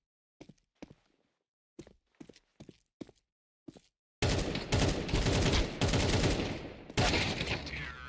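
Sparse single gunshots crack out in isolated bursts, then a sudden dense, loud barrage of continuous automatic fire fills the rest, a chaotic video game firefight during an esports league match.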